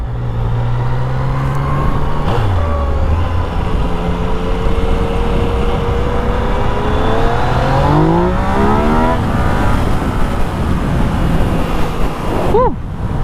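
A 2019 Yamaha XSR900 motorcycle in A mode accelerates hard, its engine note climbing through rising gears in a loud, sustained howl close to the microphone, with a brief drop and recovery between shifts.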